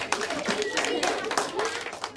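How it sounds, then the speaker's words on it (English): A primary school class claps together in a sustained round of applause, lively and close, with voices chattering underneath. "Give him a clap, that's brilliant."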